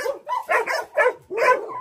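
A dog barks several times in quick succession, close and fairly loud, with short yappy barks separated by brief pauses.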